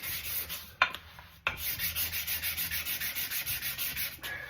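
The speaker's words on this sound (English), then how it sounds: "So main thing is to hand sand your edges." Wood edges being hand sanded with 220-grit sandpaper, a steady rhythmic back-and-forth scratching of quick, even strokes, close and clear with no talking.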